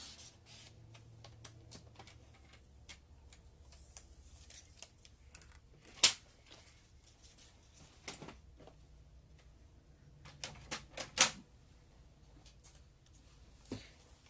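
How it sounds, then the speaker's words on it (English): Cardstock being cut down for card making, quiet scattered snips and rustles with a few sharper cuts near the end, no voices. "First, I'm going to cut it down so that it does feed through."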